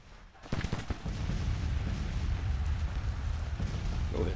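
Musket fire from skirmishers in a Civil War battle game rolls as a dense, sustained crackle of distant volleys, starting abruptly after a brief quiet and continuing loudly throughout with no talking.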